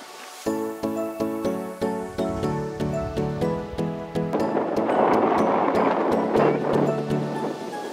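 Wind gusts roar steadily across an open-water scene while a small boat is rowed against it, with a steady rushing blow and intermittent rhythmic knocks and creaks throughout.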